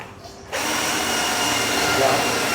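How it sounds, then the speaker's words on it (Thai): A handheld impact drill runs at full speed, starting abruptly after a brief quiet moment and holding a loud, steady whining roar close by during electrical installation work. "สว่านนี่คือกระแทกได้อันนี้เนาะ"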